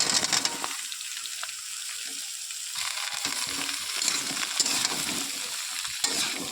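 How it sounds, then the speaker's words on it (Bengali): Ridge gourd and potatoes frying in a little oil with onions and green chilies make a steady close sizzle that swells as the vegetables hit the pan, with scraping stirs throughout and no talk. "এবার ঝিঙে আলুগুলোকে ওই পেঁয়াজ লঙ্কার সাথে হালকা করে একটু ভেজে নেব।"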